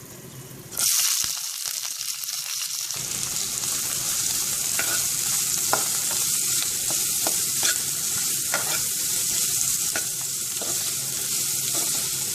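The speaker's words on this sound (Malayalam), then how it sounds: "വെളിച്ചെണ്ണ ചൂടായി കഴിഞ്ഞ് നമുക്കിതിലേക്ക് സവാളയും പച്ചമുളകും കറിവേപ്പിലയും ചേർക്കാം" Onion, green chilli and curry leaves dropped into hot coconut oil burst into a loud sizzle that keeps frying steadily, with stirring clinks and scrapes in the pan, no voices.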